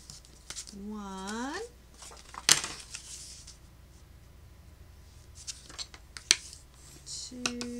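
Scissors cutting card pieces for greeting cards, a few crisp snips and paper rustles spread across the moment, close and fairly quiet, with a short vocal sound early on.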